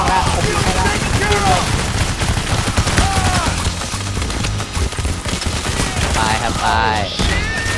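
Gunfire in a co-op session of the heist shooter PayDay The Heist, dense bursts of automatic shots and rapid fusillades over loud game music and ambience, with players talking over it.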